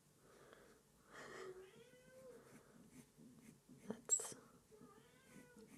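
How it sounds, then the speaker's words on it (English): A cat meows a few times nearby, soft and drawn out, with quiet background noise and a brief sharp sound near the end. "I don't know if anyone can hear the cat in the background."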